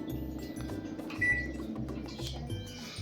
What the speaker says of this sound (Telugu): నేను ప్రీ హీట్ చేస్తా ఓవెన్